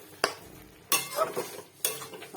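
Mashed giant taro with ground coconut is stir-fried dry in a pan, with three sharp scraping strokes of a utensil over a light sizzle, close and distinct.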